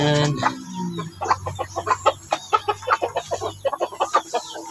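A hen clucks in a rapid, uneven run of short calls near the microphone, held at a farm that raises Brahma and Aseel chickens, opening with a longer drawn-out cackle before the steady pulsing clucks continue.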